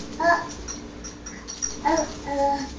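A puppy gives a few short, high whimpers and yips in brief bursts, close by, in a quiet home setting.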